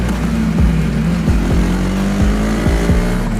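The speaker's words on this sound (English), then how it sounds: "working the gearbox keeps you engaged while riding the motorcycle" A Husqvarna Vitpilen 250 motorcycle rides along with a steady engine hum, its pitch dropping sharply at about five evenly spaced gear shifts, close and loud throughout.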